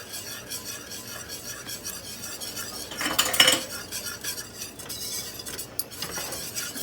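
Stevia and cocoa powder stirred in a bowl, with repeated close clinks and scrapes of a utensil against the dish, a louder burst of rapid mixing in the middle.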